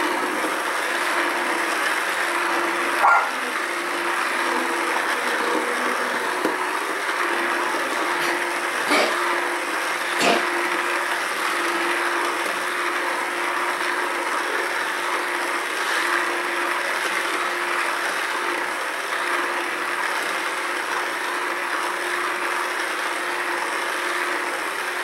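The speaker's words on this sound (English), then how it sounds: "you can use a handheld blender or you can put it in a blender in portions" A handheld immersion blender whirs steadily and continuously through celery and onion soup in an enameled cast iron pot, with a constant mechanical drone and a few faint clicks.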